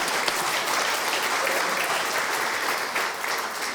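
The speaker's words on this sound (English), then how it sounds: "give yourselves applause" An indoor audience at a county government address applauds, a dense, steady clapping that fills the room for several seconds without a break.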